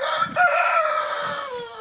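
A single chicken lets out one loud, drawn-out call up close, sounding alone and fading toward the end.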